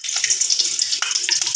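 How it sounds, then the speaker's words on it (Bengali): Peanuts frying lightly in a pan, a close bright sizzle with quick crackles and small stirring clicks over a brief stretch, no one talking. "বাদামটাকে মা ভেজে নিচ্ছে অল্প করে"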